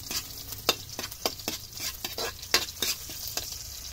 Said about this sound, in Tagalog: lagyan na po natin yung bawang. Lagyan na rin natin sibuyas,